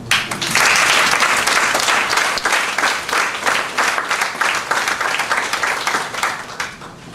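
A large audience at a graduation ceremony applauds loudly and steadily, dense clapping filling the whole stretch before tapering slightly toward the end.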